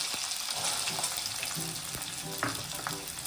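Chana and peas with chilli pieces sautéing in a pan for matar cutlets, a steady broadband sizzle with scattered stirring scrapes and clicks, close and continuous with no voices.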